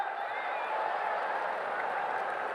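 A crowd claps steadily at a political speech, a dense and even wash of applause that holds at the same level throughout, with no voices standing out.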